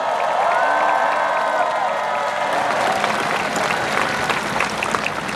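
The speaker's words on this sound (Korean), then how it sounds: "박수 부탁드립니다" Loud, dense applause from a large crowd at a presidential campaign rally in Sejong, South Korea, with some cheering and scattered shouts, continuing steadily throughout.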